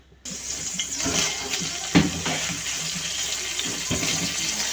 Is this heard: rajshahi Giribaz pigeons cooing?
no